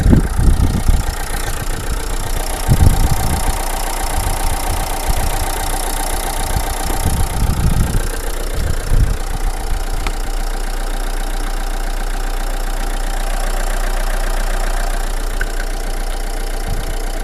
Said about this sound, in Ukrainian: двигун працює рівно, ідеально.